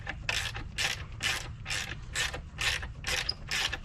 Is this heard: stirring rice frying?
no